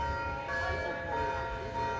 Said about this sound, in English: Bells are chasing me constantly